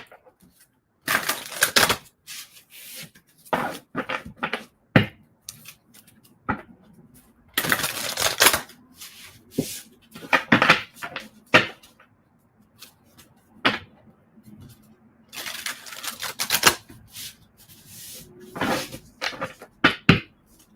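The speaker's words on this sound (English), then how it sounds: "So I'm pulling cards for Lauren right now." Tarot cards being shuffled and pulled in a live reading, giving repeated crisp bursts of card flicks and riffles in irregular clusters, with short quiet gaps between them and no voice.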